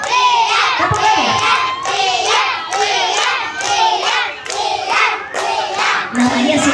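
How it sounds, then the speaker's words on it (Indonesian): Children at a storytelling event for Isra' Mi'raj clap together in a patterned, rhythmic sequence, with repeated bursts of group claps mixed with lively shouting and chanting voices. "Tepuk lagi."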